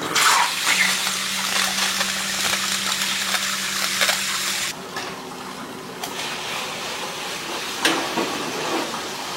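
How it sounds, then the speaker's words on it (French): Steady running tap water gushes over a freshly hydro-dipped part being rinsed, a continuous loud wash that thins slightly midway, with occasional small splashes and no talking. "Là, je vais la mettre à rincer."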